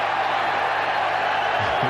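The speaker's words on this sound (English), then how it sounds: "They're cheering the miss by Michael Lynagh, the world's greatest goal kicker" Rugby World Cup crowd, Australia against Western Samoa, 1991, sends up a broad, steady roar of cheering after Michael Lynagh's missed goal kick, loud and continuous throughout with a faint rise near the end.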